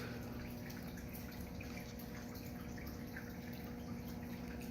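Tall water features run in a showroom, a steady wash of flowing, trickling water with faint dripping, fairly quiet and constant throughout with no voices.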